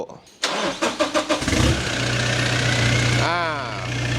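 A Toyota Revo pickup engine, fitted with a new exhaust, cranks over in several rapid pulses, catches and settles into a steady low idle close by, with brief talk near the end.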